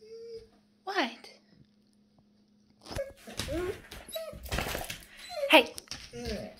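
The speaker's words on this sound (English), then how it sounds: "Why are you moaning and groaning?" A lazy dog moans and groans close by in drawn-out whiny whimpers, a short burst early on, then a longer run of groaning tones mixed with a person talking softly to it.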